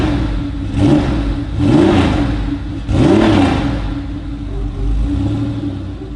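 A Ferrari road-going sports car, likened to a race car, revs its engine several times in quick succession, each rise swelling loud and close before easing back to a steady idle rumble, with no one speaking.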